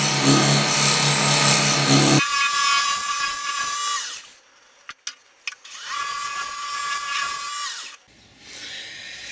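A wood lathe spins a wooden piece while its bottom is sanded, giving a loud, steady high whine that drops away and returns, with a few sharp knocks during the quieter gap.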